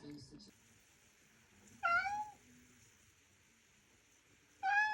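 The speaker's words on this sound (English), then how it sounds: "So every morning this freaking cat woke me up at 5 a.m." A house cat meows twice, one clear meow near the middle and another at the end, both close and loud against a quiet room, with faint speech at the start.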